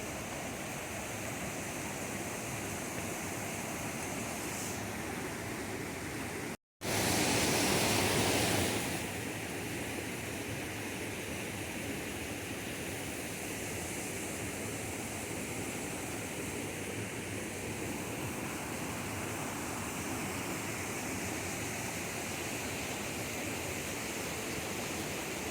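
Full creek in Yountville, California, swollen after a rain storm, rushing as a constant broad roar of water at close range, with a short gap and a brief louder burst early on, no voices.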